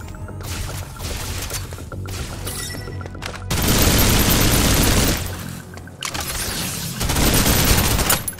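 Sustained automatic gunfire in Snowbreak: Containment Zone, heard as dense broadband bursts with brief gaps, growing louder and fuller in two long volleys near the end, with no talking.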